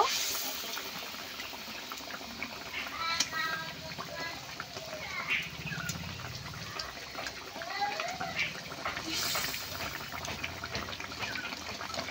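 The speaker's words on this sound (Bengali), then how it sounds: "ঝোল ফুটছে, এখন একে একে ভেজে রাখা মাছগুলো দিয়ে দেব" Fish curry bubbles and simmers in a pot, a steady low gurgle with occasional pops, with a voice talking faintly over it.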